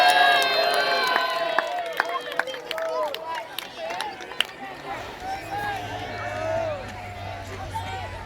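A large outdoor crowd at a Battle of Hastings reenactment cheers for King Harold and Saxon England, a sustained roar of many voices with scattered whistles and shouts that rises and falls over several seconds.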